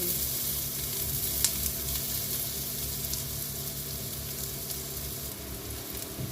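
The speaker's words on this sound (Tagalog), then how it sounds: "Gisa-gisa muna natin hanggang mag-brown." Ginger sautéing with garlic and onion in a pan until brown, a continuous dense sizzle with faint occasional stirring clicks, steady and close with no talking.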